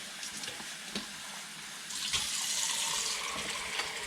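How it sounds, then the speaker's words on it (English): Tap water pours into a cooking pot while making chili, a steady rushing splash that grows louder and brighter halfway through as the flow strengthens. "I will fill this with a little bit of water to put in."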